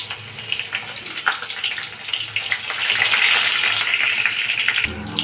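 Thickly chopped onion hits hot oil in a pan, giving a steady loud sizzle and crackle that swells midway and holds, with faint background clatter.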